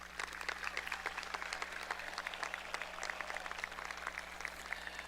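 A crowd at a high school graduation gives the teachers a round of applause, heard as a steady, fairly faint patter of many hands clapping at a distance, with no talking over it.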